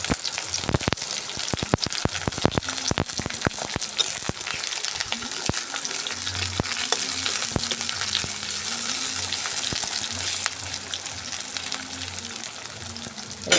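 Onions, nigella seeds and slit green chillies frying in hot oil, giving a steady, dense sizzle with scattered sharp crackles and pops throughout, close and continuous, with a low hum in the background.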